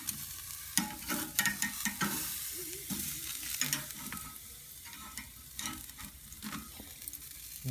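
Pork tenderloin chops being grilled on a Primo Oval XL with barbecue sauce, giving off a crackling sizzle with irregular pops and spits, fairly close and moderately loud, no voices.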